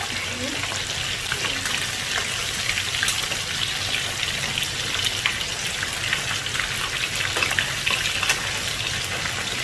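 Catfish coated in turmeric frying in hot oil, a dense continuous crackle and sizzle that holds steady throughout, with a voice talking faintly underneath.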